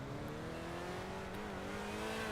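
A car held at high revs for a launch, its engine droning steadily and loudly with a slowly rising pitch throughout the short stretch.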